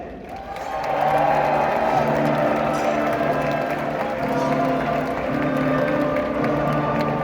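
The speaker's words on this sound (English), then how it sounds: "a nice round of applause for Sir David!" An audience at a live jousting and sword fighting show breaks into applause and cheering for a sword fighter, swelling after a moment into a loud, sustained wash of clapping and crowd noise.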